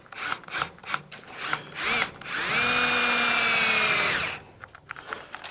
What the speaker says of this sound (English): drilling these out was definitely the way to go